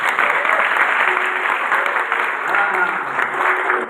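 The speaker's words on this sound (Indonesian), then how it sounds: "Tepuk tangan buat panitia tukang masak." Steady, dense applause from an indoor audience honoring the cooking committee at a gathering, continuous and fairly loud throughout with a faint murmur of voices beneath.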